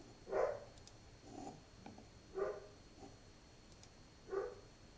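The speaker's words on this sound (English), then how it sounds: "my dogs must see the mailman or something outside" Faint, distant dogs bark indoors in a few spaced single woofs, likely reacting to a mailman outside, heard at low level with no speech over them.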